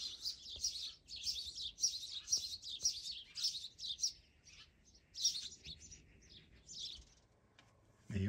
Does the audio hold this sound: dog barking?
no